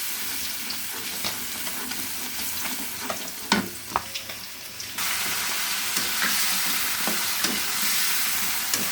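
Okra frying with spices in a pan gives a continuous sizzle with scattered sharp crackles and pops, which grows louder and denser toward the end. There is no talk.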